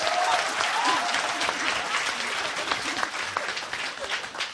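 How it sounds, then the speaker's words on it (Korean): Loud, sustained audience applause at a Korean live philosophy lecture and talk show, dense hand clapping filling the room steadily from start to finish with a slight fade toward the end. "박수 쳐주세요."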